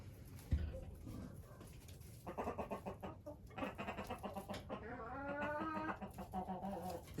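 Marans hens and a rooster cluck and call in a warm farmyard, a run of rising, stacked fowl vocalizations over low background noise, with a brief thump early and soft human voice sounds mixed in.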